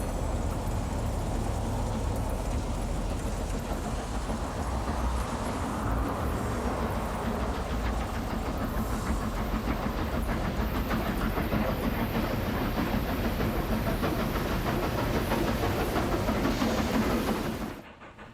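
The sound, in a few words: passenger train arriving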